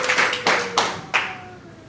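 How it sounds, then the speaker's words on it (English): A small audience claps for a speaker at a coaching and connection event, sharp bursts of applause rising and fading in a few short waves, fairly close, with no talk over it. "You give Fred a round of applause."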